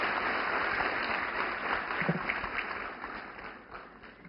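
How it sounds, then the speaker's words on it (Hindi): Audience applause for Narendra Modi at the 'Sashakt Nari Viksit Bharat' event, a dense, steady wash of many hands clapping that stays loud for a few seconds and then slowly thins out. "माननीय श्री नरेंद्र मोदी जी के लिए जोरदार तालियां।"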